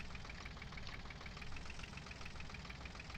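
A truck engine in Farming Simulator 2013 runs with a steady, knocking diesel idle, a continuous rhythmic clatter at moderate level, alone with no talk.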